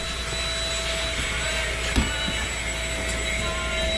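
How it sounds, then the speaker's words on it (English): A vacuum cleaner drones steadily indoors, a loud continuous whining roar with one brief bump partway through and no talking. "Mama's vacuuming."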